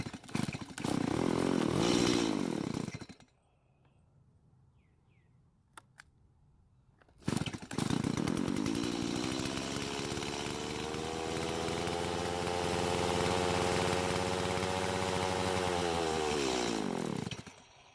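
A Stihl chainsaw engine, fresh from carburetor service, runs loudly for a few seconds, cuts out into near silence, then restarts and holds a steady, rough idle for about ten seconds before stopping.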